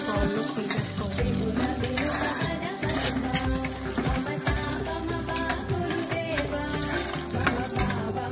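Sooji frying in ghee in a pan for nooka prasadam, a loud continuous sizzle with busy stirring and scraping of a utensil against the pan, dense and close-up.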